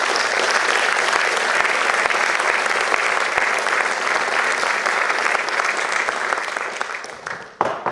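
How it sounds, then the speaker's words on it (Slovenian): Loud, steady audience applause at a university academic ceremony honouring a posthumous gold plaque recipient, dense clapping that holds level then fades out near the end. "Prosim za aplavz."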